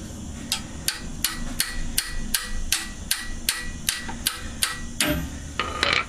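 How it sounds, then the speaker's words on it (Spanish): A hammer strikes a stiff oil drain plug on a Chevrolet Aveo in a steady series of about a dozen sharp taps, close and evenly spaced, with no talking. "con la ayuda de un martillo, ya que inicialmente está bastante duro, aflojaremos el tapón"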